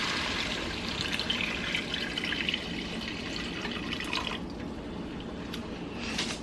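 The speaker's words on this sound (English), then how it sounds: "Now I'm going to add 1 of the 14-ounce cans of beef broth." Beef broth from a 14-ounce can pours steadily into a cooking pot with a continuous close splashing gush that eases off near the end.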